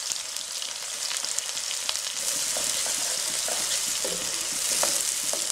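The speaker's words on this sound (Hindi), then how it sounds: "ये 2 मीडियम साइज के प्याज स्लाइस करने के बाद ब्राउन करेंगे" Two medium sliced onions brown in half a cup of cooking oil in a pot, giving a steady, close sizzle with faint stirring scrapes throughout and no talking.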